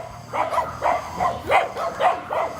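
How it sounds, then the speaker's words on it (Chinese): Rural village dogs bark outdoors, about six sharp, fairly close barks at a quick, uneven rhythm, with a low background rumble and no talk. "哎呦，你听，狗叫的"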